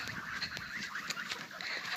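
A flock of nineteen geese honks repeatedly, overlapping calls coming in quick succession from a short distance.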